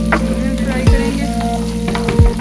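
Chopped carrots and bell pepper fry in a pan for a Maggi recipe, with a loud, constant sizzle and a few sharp stirring scrapes against the pan.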